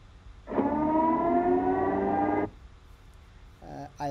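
An alarm siren sound effect from a product demo sounds as one steady wailing tone for about two seconds, loud and close, then stops abruptly, followed by brief other sounds.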